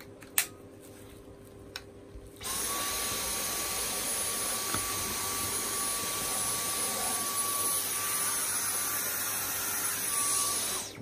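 A Dyson cordless stick vacuum runs with an extension hose tool attached: after a couple of faint clicks, the motor starts and holds a loud, steady high-pitched whine with a constant airflow hiss.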